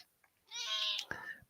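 An indoor pet cat gives one drawn-out meow that is faint and close, followed right after by a soft breathy sound that may be a quiet whisper.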